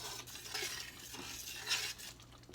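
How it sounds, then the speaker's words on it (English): A spoon stirs spaghetti meat sauce in a pot, giving soft repeated scraping and clinking strokes with a faint simmer underneath, quiet and close with no talk. "I'm going to let this sit with the lid after I stir it up a little bit"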